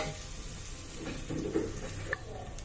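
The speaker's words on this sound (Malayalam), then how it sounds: "ഇഞ്ചി വെളുത്തുള്ളി പേസ്റ്റിന്റെ പച്ചമണം മാറുന്നവരെ ഒന്ന് ഇളക്കി കൊടുക്കുക" Ginger garlic paste sautéing in a pan for a Kerala-style coconut milk pulav, a soft steady sizzle with a few light scraping stirs of the spoon, close and fairly quiet.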